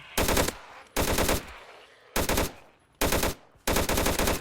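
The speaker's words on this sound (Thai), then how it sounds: "ถ้าเรายิ่งยิงปืนนะครับ พวกซอมบี้นะครับ มันจะ ได้ยินเสียงนะครับ" Bursts of rapid automatic gunfire in Minecraft, loud and close, in about five separate volleys with short pauses between.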